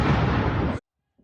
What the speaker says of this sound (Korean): 사이렌 소리에 이어 폭발음이 들리고